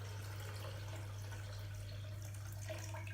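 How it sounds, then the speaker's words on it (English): Water streams steadily into a Blendtec blender jar, a continuous splashing pour with a low constant hum underneath and no speech. "Now I'm going to put 3 cups of water on top of that."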